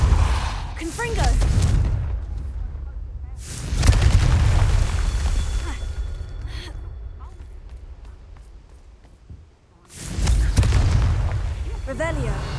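Confringo blasting spell explosions in the video game Hogwarts Legacy, several heavy booming blasts with rumbling tails separated by quieter gaps, the last one loud and close.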